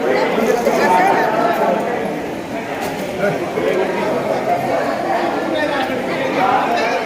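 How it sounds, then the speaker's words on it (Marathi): Dense crowd chatter fills a busy Hindu temple on a Shravan Monday, a continuous murmur of many voices with a nearer voice talking over it. "बघा भरपूर गर्दी आहे आपली मंदिरामध्ये"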